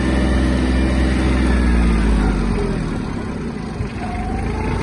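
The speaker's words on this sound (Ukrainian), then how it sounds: "Трактор досить певно набрав свою максимальну швидкість" A Yanmar F-155 Japanese four-wheel-drive mini tractor runs at top speed in its high third gear, its engine a loud, steady, close drone that eases slightly toward the end.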